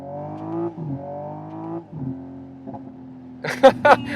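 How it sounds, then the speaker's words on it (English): A Hyundai IONIQ 6 N electric car plays its simulated combustion engine note, a sustained harmonic drone with shifting pitch, then a burst of sharp crackling exhaust pops near the end. "And you let go of the throttle and you have it plop, plop, plop, plop, plop from the exhaust."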